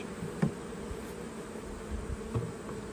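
Honey bees from a late-season swarm buzz steadily all around, a close, continuous insect hum with small bumps and knocks, no voices.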